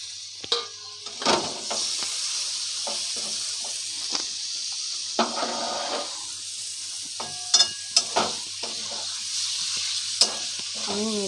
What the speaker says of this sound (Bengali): আমি মিডিয়াম ফ্লেমে চিকেনটা 2 মিনিট ভালো করে কষিয়ে নেব